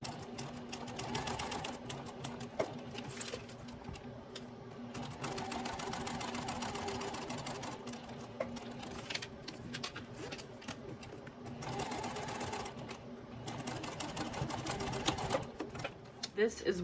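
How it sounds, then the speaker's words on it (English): A home sewing machine back stitches and then stitches down a small wallet panel, running in close, rapid mechanical bursts separated by brief pauses. "sink my needle, and then I will back stitch, and then continue stitching down"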